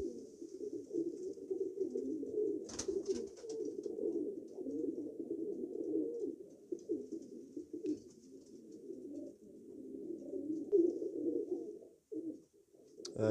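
A young racing pigeon cock coos in a low, steady, throaty rumble, close up and continuous, with a few faint noises in the loft behind it.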